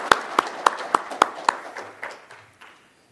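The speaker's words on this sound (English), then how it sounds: "can I get a just round of applause for our sponsors?" Conference audience applauding the event's sponsors, a short round of distinct claps that starts crisp and close, then thins and fades out over a few seconds.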